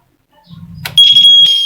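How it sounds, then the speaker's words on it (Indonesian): A motorcycle handlebar anti-theft alarm keeps sounding after its wire is cut with scissors, starting with a low buzzing rattle, a sharp snip, then a loud, shrill, steady electronic tone right up close. "alarm tetap nyala ya"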